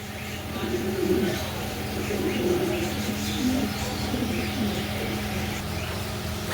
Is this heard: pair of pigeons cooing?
yes